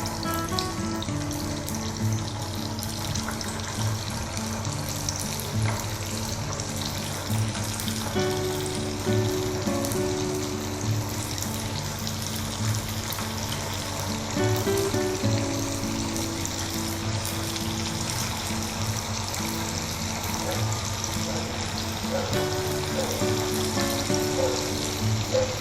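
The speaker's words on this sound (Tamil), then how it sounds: "இப்போது நம்ம உருண்டை பண்ணி வச்சுருந்த பால்ஸை வந்து எண்ணெயில் பொரித்து நம்ம எடுத்துக்கலாம்." Vegetable manchurian balls deep-fry in a pan of oil with a dense, steady bubbling sizzle that stays constant throughout, close and unbroken, with no talking.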